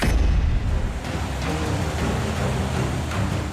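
Heavy, continuous rain pours in Visakhapatnam, Andhra Pradesh, a dense steady wash of noise with a brief low rumble at the start.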